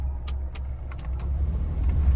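A Maruti Suzuki Alto K10 with an engine-missing fault idles steadily, its low engine rumble constant and close, with a few faint clicks above it and no talking.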